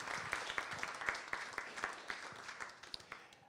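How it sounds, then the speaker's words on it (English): At an evening jazz concert at a winery, a small audience claps for the sound engineer, with scattered individual claps rising and fading rather than a dense roar, fairly quiet and thinning toward the end. "if we could continue that applause for Chris"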